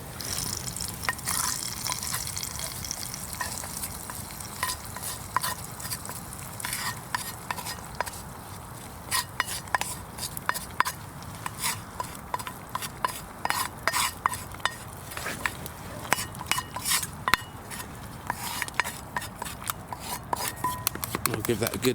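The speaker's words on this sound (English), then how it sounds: "We'll give that a good stir around." Garlic, fried until golden, being stirred in a pan over a campfire outdoors, giving steady scraping and clinking with a soft sizzle throughout, fairly close and moderate in level.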